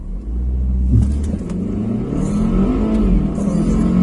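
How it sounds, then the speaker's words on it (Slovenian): A car rated at over 360 horsepower accelerates hard from inside the cabin, a steady loud engine rumble and rising drone that holds through the whole stretch without a break, with no talk over it. "Kako izgleda pospešek v avtu, ki ima več kot 360 konjev."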